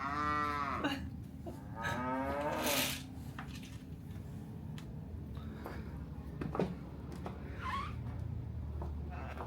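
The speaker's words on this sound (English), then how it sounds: "Oh, and we have a cow." A cow at a rural lodging in Bali gives a couple of loud, drawn-out moos close by, followed by quieter stretches with faint knocks and a later softer call.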